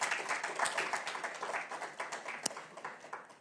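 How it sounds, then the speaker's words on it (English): A round of applause from the audience at a live AFC Women's Champions League knockout stage draw, steady, moderately loud clapping throughout, with one sharper clap standing out near the end. "Let's give them both another well-deserved round of applause."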